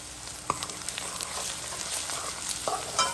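Shrimp and eggplant frying in a pan are stirred, a soft continuous sizzle with faint scraping clicks, fairly quiet and without talk.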